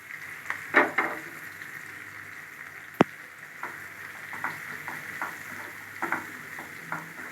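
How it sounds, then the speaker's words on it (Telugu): Chopped onions with cumin seeds frying in a pan for an egg masala curry, a steady low sizzle with scattered crackles and pops and one sharp click, close and without talk. "బాగా ఫ్రై చేసుకోవాలి గోల్డెన్ బ్రౌన్ కలర్ వచ్చే వరకు"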